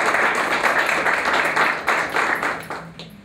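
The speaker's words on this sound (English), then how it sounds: "What about a nice round of applause?" A small audience gives a round of applause at an art event, scattered hand claps with a few sharp individual claps, fading toward the end, moderately close and without talk.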